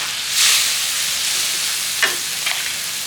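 Liver with curry powder stir-frying in a pan gives a steady, close sizzle, with a couple of brief scraping stirs near the end.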